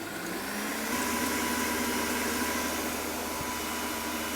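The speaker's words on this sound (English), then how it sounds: "We want full speed on our kitchen machine." Kitchen stand mixer whisking egg whites at full speed for a pistachio soufflé, giving a steady, loud whirring drone that runs unbroken and close with no voices over it.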